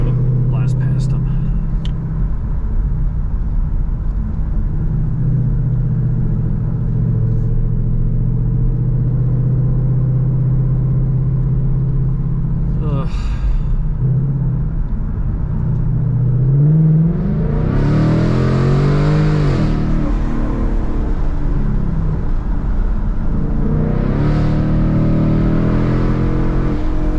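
A Ford Mustang GT with an automatic gearbox and paddle shifters climbs uphill on a North Georgia mountain road, its loud engine droning steadily throughout, then surging in rising pitch as it accelerates to pass.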